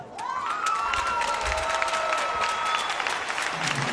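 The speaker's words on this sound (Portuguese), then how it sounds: "Aí os aplausos de todo mundo" Crowd applause and cheering fill the arena after a gymnast's second vault at a March 2017 World Cup vault final, loud and sustained, with a whistle-like tone sweeping through and scattered shouts.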